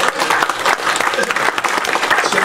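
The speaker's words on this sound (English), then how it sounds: "Come on, a round of applause, right?" Enthusiastic audience applause at a club meeting, close and loud with a slightly uneven, fluttering texture, continuing steadily throughout the short stretch.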